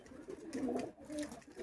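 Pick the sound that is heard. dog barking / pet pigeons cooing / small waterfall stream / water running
pet pigeons cooing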